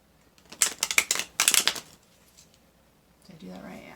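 Quick riffling bursts of tarot cards being shuffled, two rapid flurries close by, followed by a pause and then faint talking.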